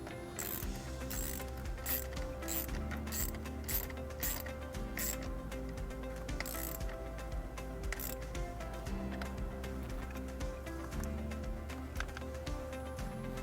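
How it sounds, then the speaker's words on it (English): A ratchet wrench tightens a nut back onto the battery terminal of a 2018 Mazda3 during a wiring harness install, giving repeated quick clicking strokes at close range with no speech. "And then just put that nut right back on."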